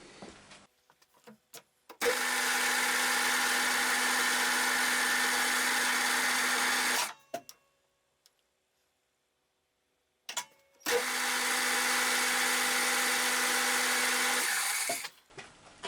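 A metal lathe with a metric lead screw takes a scratch pass while cutting a 12 TPI imperial thread on a milling machine drawbar. Two loud, steady runs of machine noise, each about five seconds, are split by a quiet pause.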